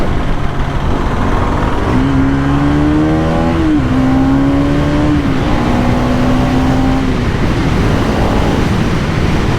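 A Bajaj Pulsar NS200 BS6 motorcycle engine and exhaust, a deep bassy drone that rises into a rev, dips, then holds steady, heard loud and close over wind noise.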